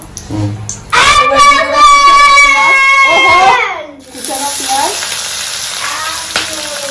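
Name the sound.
dry red chili, cardamom, cloves, cinnamon sizzling in hot oil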